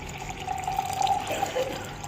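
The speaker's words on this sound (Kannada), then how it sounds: "ಈಗ ಇದಕ್ಕೆ ಎಷ್ಟು ಬೇಕೋ ಅಷ್ಟು ನೀರು ಹಾಕೋಣ." Water poured into a glass of raw mango juice, a soft gurgling trickle with a faint rising tone as it fills, close and quiet with no talk.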